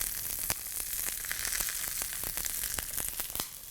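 Broccoli crackling and sizzling steadily in a hot stir-fry pan with chili, seeds and curry leaves for a Kerala-style cashew and broccoli dish, with sharp pops scattered through the continuous frying hiss.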